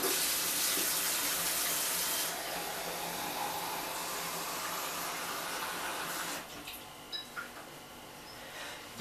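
Water poured into a container for mixing a plum-stone stratification substrate, a close, steady splashing stream that thins out and stops about two-thirds through, leaving a few small drips.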